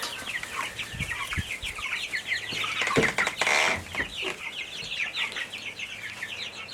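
Chickens cluck and chatter steadily inside a farm barn where young meat birds and starting egg layers, including Rhode Island Reds, are kept, with many overlapping close calls, occasional wing flaps and thumps.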